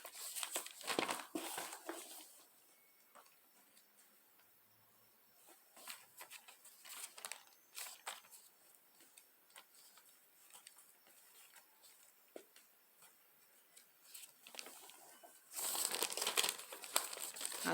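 Bible pages being leafed through by hand, giving soft papery rustles and crinkles in scattered bursts, with a louder flurry near the end, close and fairly quiet.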